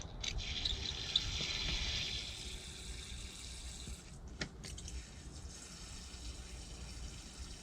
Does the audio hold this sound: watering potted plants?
yes